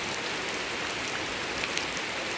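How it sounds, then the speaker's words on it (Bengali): Heavy rain pours down on a farm, a dense, steady hiss of drops with no pauses and no voices. "দেখতে দেখতে প্রচণ্ড বৃষ্টি শুরু হয়ে গেল।"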